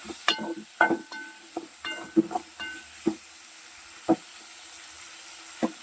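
Tomatoes frying in a pan for a bitter gourd curry, a soft steady sizzle broken by scattered sharp clinks and scrapes of stirring, fairly quiet and close.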